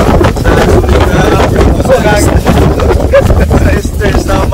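Strong typhoon wind buffeting the microphone in the Visayas, a loud, continuous rushing roar with gusty surges throughout and no clear voice over it.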